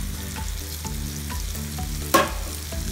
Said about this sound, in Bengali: ঢেলে দিয়ে লাড়া দিবেন। দেখতে পাচ্ছেন আমি সবগুলো এখানে ঢেলে দিচ্ছি।